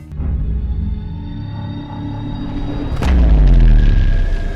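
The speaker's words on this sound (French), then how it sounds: "c'est la super arme de la base Starkiller qui détruit 5 planètes en un seul coup" The Starkiller Base superweapon fires in a Star Wars film: a sustained, layered sci-fi rumble swells, then a heavy booming blast hits partway through and rolls on loud to the end.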